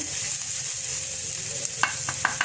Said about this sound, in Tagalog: Gisa na, lagay natin ang ating onion.